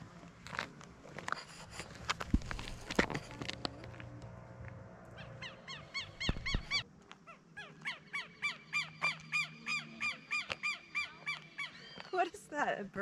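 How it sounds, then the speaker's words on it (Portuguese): A southern lapwing calls repeatedly with harsh, rhythmic cries, loud and close, in Paraná, Brazil, after a stretch of voices and background chatter. "É um passarinho que chama quero quero."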